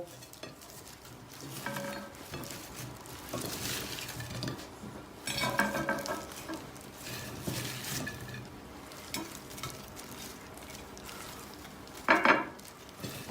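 Potatoes go into a pan of frying chicken liver, followed by spoon-on-pan stirring, clinks and a low sizzle, with a louder tumble of food partway through and a sharp clatter near the end.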